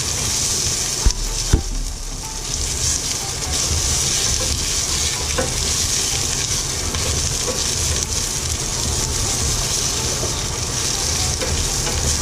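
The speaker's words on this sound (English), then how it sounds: "Saute the garlic." Garlic sautéing in a hot pan for Bicol-style kansi: a loud, continuous sizzle with no pauses, with two sharp knocks near the start.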